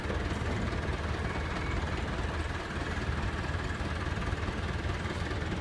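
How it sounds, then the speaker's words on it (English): A 1982 International 785 XL tractor's engine idles steadily, a continuous low rumble with a constant drone and no gaps, heard close and alone with no talking. "to start it up, you simply put your foot down on the clutch pedal and turn the ignition"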